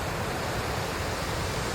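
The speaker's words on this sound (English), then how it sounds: "So this is the falls, called the Falls, and it's in South Dakota." Steady, dense rush of falling water at Sioux Falls, South Dakota, a continuous broadband roar with no breaks or voices, close and fairly loud throughout.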